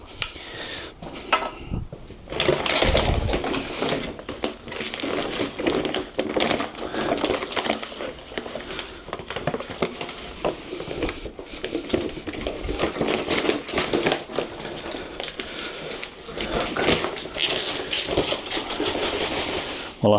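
A broom sweeps across an outdoor patio, making continuous scratchy brushing strokes with irregular scrapes and knocks, close by, with occasional talking over it.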